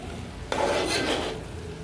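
Maize and poha chevdo is stirred in a pan, giving a close scraping, rustling mix for about a second amid quiet kitchen background.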